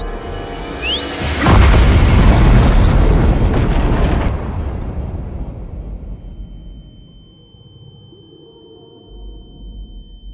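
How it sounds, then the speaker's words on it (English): A loud, deep detonator explosion in a Star Wars video game cinematic, a sudden booming blast that roars for a few seconds and then fades into a long rumbling decay, with a thin steady tone lingering afterward. "That was a nasty explosion."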